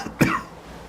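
A single sharp cough rises loud and close from an otherwise quiet room, then quickly fades.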